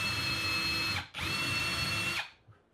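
A power drill bores a recess for a screw head into a live-edge wooden shelf, two steady whining bursts close up with a brief pause between, then winding down to quiet.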